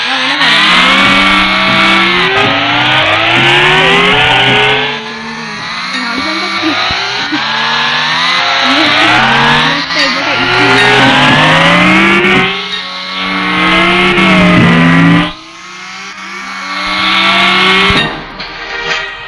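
Racing cars in a video game roar past with loud revving engines that rise and fall in pitch, along with brief tire squeals, continuous and close for the whole stretch.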